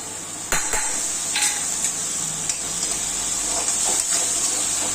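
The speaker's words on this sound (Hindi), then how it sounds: "अब इसमें हम डाल देते हैं लहसुन अदरक का पेस्ट।" Garlic ginger paste hits hot oil in a pan for a Chhattisgarhi aloo badi curry and sizzles steadily and loudly, with a few sharp clinks of a spoon against the pan.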